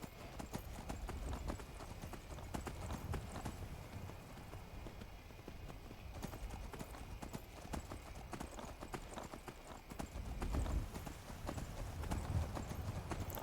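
Horse hooves clip-clop at a steady gallop in the video game Skyrim, a continuous close rhythmic pounding that runs throughout with no talking over it.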